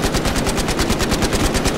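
Rapid automatic gunfire in Battlefield Hardline, a steady stream of loud, evenly spaced shots continuing without a break.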